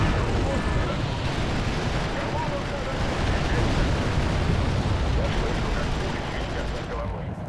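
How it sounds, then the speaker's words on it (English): Artillery fire and explosions in the game Wargame: European Escalation, a dense, continuous roar of blasts and rumbling impacts filling the whole stretch, loud and unbroken. "we got artillery firing on us"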